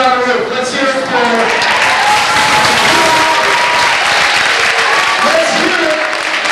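Audience applause before a musical number, dense sustained clapping that fills the room at full volume, with voices cheering over it.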